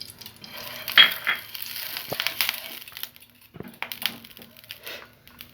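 Dudh patisapta pancakes fry in oil in a pan, with a soft sizzle and crackle broken by a few scraping and tapping sounds from handling, close and fairly quiet, no talk.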